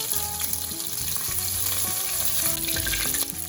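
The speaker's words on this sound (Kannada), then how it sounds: "ಎಲ್ಲನೂ ಸ್ವಲ್ಪ ಚೆನ್ನಾಗಿ ಫ್ರೈ ಮಾಡೋಣ" Ginger-garlic paste and cumin seeds sizzle steadily in hot oil for an okra stir-fry, a continuous close frying hiss with tonal background music running throughout.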